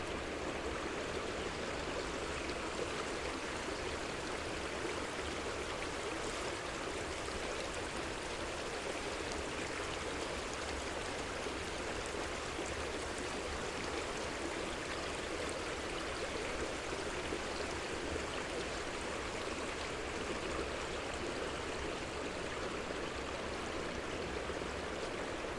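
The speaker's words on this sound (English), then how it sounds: "we're gonna enjoy the sound of this creek" A creek rushes steadily along a snowy trail at Palisades Falls, a constant, full, close water roar with no breaks and no voices.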